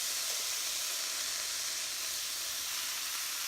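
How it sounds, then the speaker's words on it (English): Onions frying in a pan for oxtail gravy, a steady, even sizzle and hiss throughout, close and fairly quiet, with no voices. "You just fry this stuff down until it's a little translucent."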